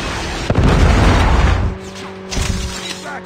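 A Predator missile strike in Call of Duty Mobile battle royale lands as a heavy, booming explosion, loud and close, rumbling for about a second before tapering into softer debris and game sounds.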